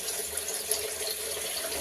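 Tap water pours steadily into an alligator gar fish tank, a continuous close rushing and splashing hiss that holds an even level throughout with no pauses.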